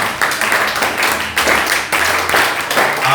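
A church congregation claps in a dense, loud, continuous patter of rhythmic hand claps, surging in bursts with cheering voices mixed in.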